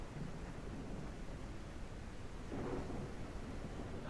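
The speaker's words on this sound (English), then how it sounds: "I'm really hoping the rain's going to end by then" Steady rain and a low rumble of thunder in the survival game SurrounDead, a constant faint wash of noise with a slight swell of rumbling near the end.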